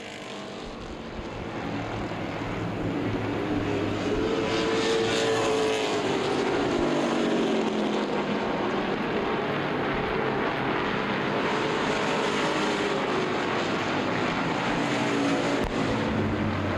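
Street stock race cars roar around an oval track at a CRA late-season race, a loud, continuous engine drone that swells and fades slightly as the pack passes, heard from trackside.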